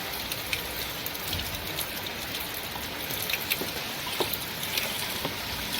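Steady rain falling all day, a dense even patter of drops on surfaces close by, with occasional louder individual drips standing out against the constant wash of sound.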